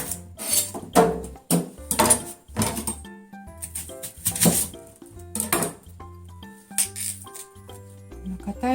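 A knife cuts through a fresh spring onion on a cutting board, giving a series of crisp chops and knocks in an uneven rhythm, close and fairly loud, with some kitchen clinks.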